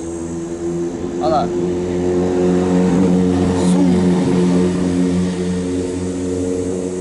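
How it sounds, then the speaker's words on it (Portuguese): A small motorbike draws near, its engine a steady buzzing drone that swells slightly over several seconds, with a person speaking briefly over it. "E está chegando uma motinha para atrapalhar."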